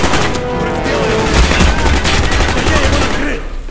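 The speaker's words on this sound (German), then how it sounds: "Granate geworfen!" Dense, continuous gunfire and blasts in the shooter Call of Duty Black Ops during a battle, loud and close throughout with rapid automatic bursts.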